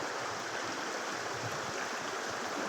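Spring water gushing steadily after three days of rain at the Qo'shchinor spring resort in Kitob district, Qashqadaryo, giving a continuous close broadband rush with no voices.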